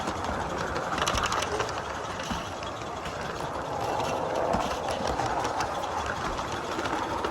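An Accucraft Victoria BC model garden train runs outdoors in melting snow, producing a continuous rapid mechanical chatter and whir that stays steady at moderate loudness throughout.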